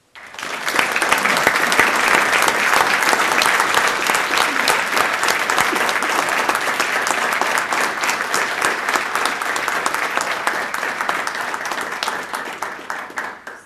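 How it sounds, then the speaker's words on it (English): A large audience applauds at an award presentation for the 2010 Charles H. Lyles Award recipient, a marine resources honour, with sustained, even clapping that runs over thirteen seconds and fades slightly near the end. "Please give a round of applause to Albert, our 2010 Charles H."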